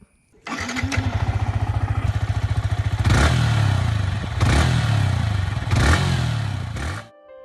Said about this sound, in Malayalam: എക്സോസ്റ്റ് നോട്ടൊന്ന് കേൾക്കാം